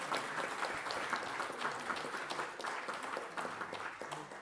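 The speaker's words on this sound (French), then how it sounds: "Donc on peut les applaudir, ils sont ici présents." An audience at a formal academic ceremony applauds steadily, a dense, even patter of many hands at moderate distance that carries on without a break and with no speech over it.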